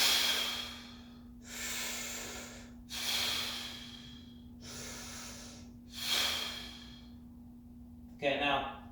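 Deep, deliberate breathing during a home workout, with forceful, hissing breaths in and out repeating about every second and a half, close up over a faint steady hum and ending in a short voiced exhale.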